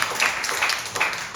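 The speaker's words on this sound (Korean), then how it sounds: "박수 한번 드려봐." A church congregation applauds its pastor in a brief burst of clapping, close and fairly loud, sustained across the short moment.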